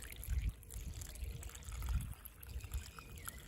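Water is poured into the soil of a potted Areca palm, heard as soft, close trickling and splashing in uneven bursts at low volume.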